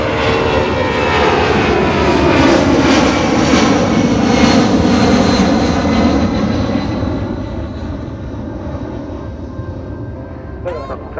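Jet airliner engines roar at full takeoff power on runway 28R at Fort Lauderdale, a loud, close, broad rumble that slowly recedes and fades toward the end.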